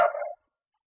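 A dog gives a single short, loud bark up close during a training session, with no talk over it.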